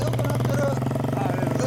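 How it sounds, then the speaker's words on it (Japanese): A 2009 Harley-Davidson Sportster 1200 Low idles with a Screamin' Eagle muffler, giving a deep, steady, evenly pulsing low rumble that sounds close and continuous through the short stretch. "エンジン音聞かせてもらえますかね。"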